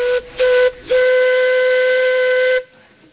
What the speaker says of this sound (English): The steam engine in Aa has found a new role in today's collector society and rally